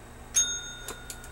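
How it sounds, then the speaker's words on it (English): A small bell rings once with a bright, sustained metallic ding, followed by a few light taps and jingles nearby in a quiet room. "You have to ring the bell."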